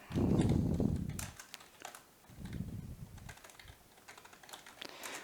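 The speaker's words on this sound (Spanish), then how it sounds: "Entonces vamos a escribir un texto muy rápido, por ejemplo, feliz cumpleaños." Fast typing of a short message on a computer keyboard, a close flurry of clicking keystrokes with low thumps mixed in.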